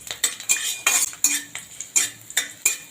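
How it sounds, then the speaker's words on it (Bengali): Garlic and black cumin frying in mustard oil are stirred in a pan, giving about nine rhythmic metallic scrapes and clinks of a spoon against the pan, loud and close, with a faint sizzle underneath. "রসুন কালো জিরেটাকে একটু নাড়াচাড়া করে নিচ্ছি"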